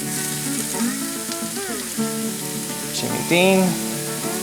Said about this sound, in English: go ahead and brown the sausage